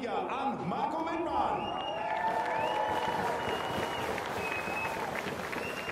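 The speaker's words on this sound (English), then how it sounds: "Applause from everybody underneath the podium." Crowd applause and cheering below the podium after the DTM race at the Nürburgring in 2014, a continuous distant wash of clapping under a commentator talking, with a public-address voice echoing across the circuit.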